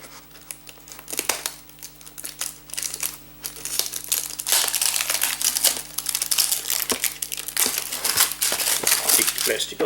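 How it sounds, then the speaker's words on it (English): Plastic shrink wrap is peeled off a Colecovision game box, giving crinkling and tearing bursts that grow steadier and louder partway through, close up. "Take the plastic off."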